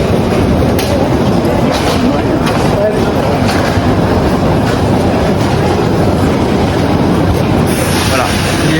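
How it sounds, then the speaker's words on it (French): TGV Inouï train at Paris-Montparnasse station, loud and close, with rolling wheel rumble and rhythmic clickety-clack over the rails throughout, a faint squeal near the end. "Voilà le TGV Inouï."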